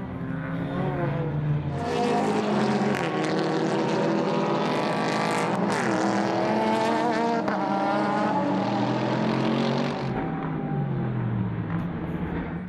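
A Ferrari F430 and a 6.2-liter Mercedes SLS AMG racing side by side in a 24-hour endurance race at Dubai, engines screaming loudly as they pass close, the pitch sweeping through gear changes before fading.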